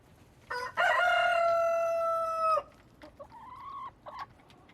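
A rooster in a chicken pen at a high school agriculture department lets out one long, loud crow, followed by softer clucks and short calls from nearby hens.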